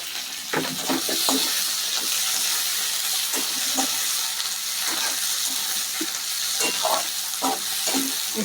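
Potatoes and vegetable stalks fry in a pan for a mixed vegetable dish, giving a steady, close sizzle broken by repeated scraping and clattering stir strokes, with no one speaking.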